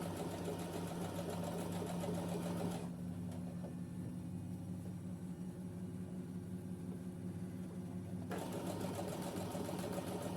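Sewing machine stitching steadily around the neckline of a blouse, a loud continuous mechanical whir with a rapid needle rhythm that drops to a lower hum mid-way, then picks up again, with no talking.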